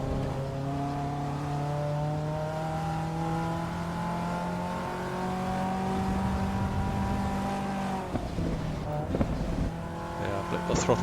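Racing car engine in the sim game Assetto Corsa EVO holds a steady drone, then at the end drops away into quick throttle blips that rev up and fall back, with a voice talking over it.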